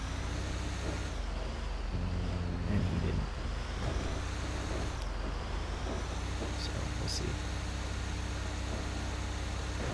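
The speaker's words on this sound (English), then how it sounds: "The truck is loud." A heavy truck engine in GTA V drones steadily and loudly, with low rumbling and shifting hum, while a person talks over it.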